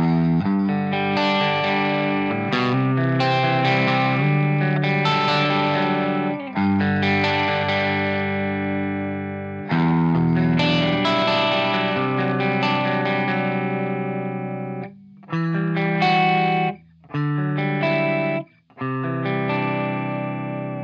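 Electric guitar through a Vox MV50 Rock amp with lowered gain, a slightly gritty breaking-up clean tone, plays chords and melodic phrases, ringing with some echo, with short pauses near the end.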